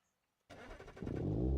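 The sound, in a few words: Hirochi Sunburst car engine starting in BeamNG.drive video game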